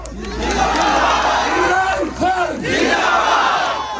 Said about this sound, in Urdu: جب زندہ باد کی اتنے نعرے لگتے ہو سنیں